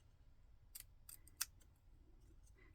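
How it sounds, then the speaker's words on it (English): A few quiet, crisp snips of scissors cutting card around die-cut leaves, spaced irregularly over a soft background hum. "So I'm going to cut around the edge of the leaves"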